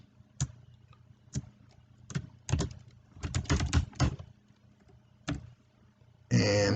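Keys being typed on a computer keyboard to enter a username and password for a forex web trading login. The clicks come in sparse, irregular single taps and short quick clusters, close and clear, ending with a brief louder rustle.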